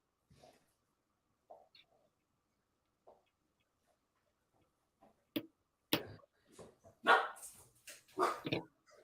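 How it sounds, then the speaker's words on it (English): A dog barks in a short, loud burst of several sharp barks near the end, preceded by a few faint, sparse yelps or sounds, with no talking over it. "It's my dog."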